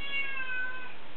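A single drawn-out meow from a house cat, close and clear, lasting about a second with a slightly falling pitch.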